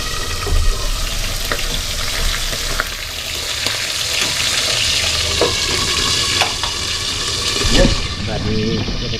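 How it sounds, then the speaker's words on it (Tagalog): Food fries loudly in leftover cooking oil in a pan, a dense, close, continuous sizzle with scattered spits and pops and occasional stirring clatter, while someone talks intermittently. "Yung tirang mantika natin pinagpirito"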